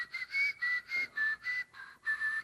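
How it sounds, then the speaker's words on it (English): A clear, tonal whistle made with the tongue and no lips repeats in about eight short, evenly spaced pulses, close and fairly loud, with no voices. "he's whistling with his tongue like that, but no lips"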